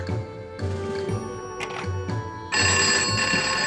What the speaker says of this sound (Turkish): Sen hangi ara benim numaramı buldun da arıyorsun beni?